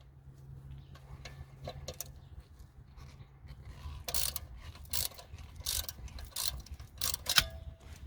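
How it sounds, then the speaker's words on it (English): A 3/8 ratchet clicks away on the rear brake of a Mercedes-Benz, making quiet, irregular bursts of ratcheting ticks close up over about eight seconds, with no voices. "take a 3/8 ratchet"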